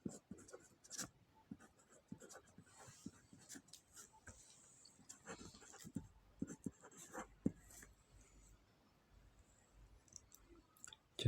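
A pen scratching across paper in short, scattered strokes with soft clicks between them, fairly close and quiet, with no talking over it.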